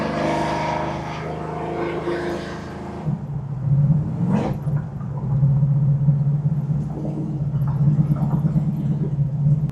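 A 1969 Chevrolet Chevelle SS restomod with a 632 big block engine pulls hard, a deep rising exhaust rumble heard from inside the car after an initial muffled stretch, with cabin noise throughout.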